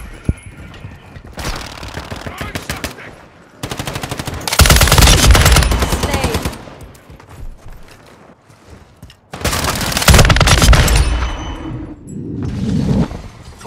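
Video game gunfire in long loud automatic bursts, separated by quieter gaps, with occasional single shots and a faint clink of glass.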